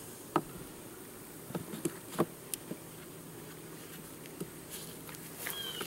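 Honey bees buzz around hive boxes on a farm, a soft steady insect drone with occasional close passes and scattered light taps and footsteps, no talking.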